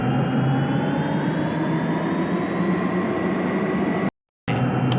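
Simulated Boeing 777 jet taxiing to the gate in a flight simulator game, a steady even whine and broadband jet hiss, constant in level, briefly cut to silence by a short gap near the end.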